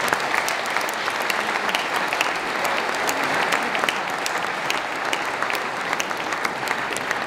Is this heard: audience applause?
yes